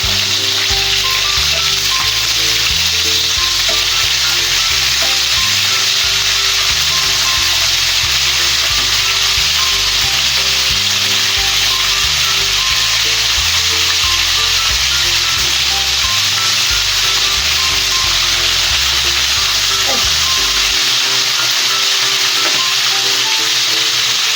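Fish frying in a pan gives a loud, continuous sizzle and crackle, steady throughout with low rumbling clatter beneath it and no voices.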